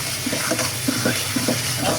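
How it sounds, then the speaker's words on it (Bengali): Potatoes fry with spices in a pan, a soft steady sizzle broken by a few scraping stirs of a spoon, close and brief. "যে মশলার সাথে আলুটা কষিয়ে নিচ্ছি, শোল মাছ দিয়ে রান্না করব।"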